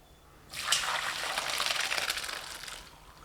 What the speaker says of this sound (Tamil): பாஸ்தா பத்து நிமிஷத்தில் நல்லா வெந்துருச்சுங்க தண்ணி வடிச்சு எடுத்துக்கலாம்